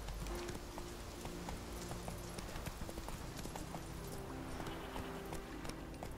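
Roach the horse gallops in The Witcher 3 video game, a steady fast clip-clop of hooves running throughout under game ambience.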